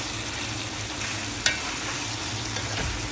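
Thai-style meat with cucumber and soy sauce sizzles in a pan while being stirred, a continuous close frying hiss with a sharp utensil scrape midway.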